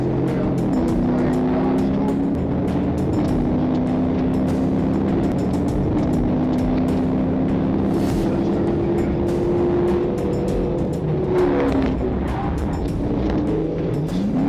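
A Dodge Charger fleeing a police pursuit at speed, its engine droning loud and close with shifting pitch as it accelerates, over steady road and wind roar and scattered clicks and knocks.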